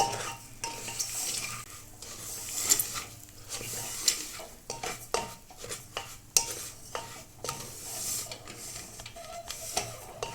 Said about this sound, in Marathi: दलिया थोडा परतून घ्यायचा आहे